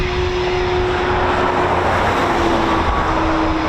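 A Eurofighter Typhoon FGR4 jet taxis at an RAF station. Its engine roar is loud, broad and steady, with a sustained tonal whine running underneath throughout.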